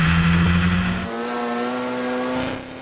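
A Formula Ford race car at the Knock Hill circuit roars past close by, its high engine note dropping in pitch as it passes and then fading away.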